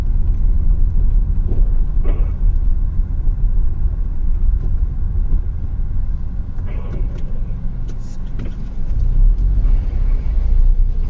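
A car drives through dense street traffic with a steady low engine and road rumble throughout. A few short, higher honk-like tones stand out over it.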